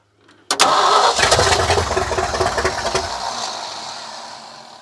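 A Ford F600 truck engine with a primed carburetor cranks briefly, catches and roars to life, then settles into a loud, rough, steady idle with no talking.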